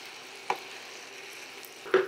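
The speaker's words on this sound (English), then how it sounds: "I'm using the spaghetti. We're going to stir it in." Spaghetti being stirred into a sizzling skillet of sticky honey garlic sausage, with a gentle continuous frying hiss broken by two brief utensil clacks, the second one near the end.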